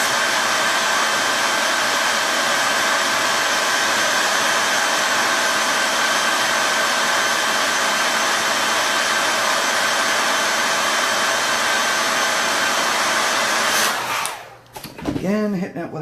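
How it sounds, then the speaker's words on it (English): A handheld blow dryer on its cold setting blows steadily and loudly for about fourteen seconds, then cuts off and leaves a brief quieter stretch at the end. "hitting it with a cold blow dryer"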